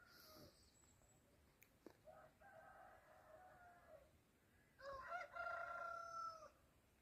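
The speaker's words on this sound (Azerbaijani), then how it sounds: "Xoruzlar bir-birini səsləyirlər." Roosters crow back and forth in a village, with several faint, distant cock-a-doodle-doo calls answering one another over quiet rural background.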